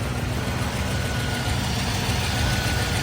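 A 1989 Mercedes 560 SEL with its big V8 idles steadily, a smooth, even low rumble that holds constant throughout with no voices over it.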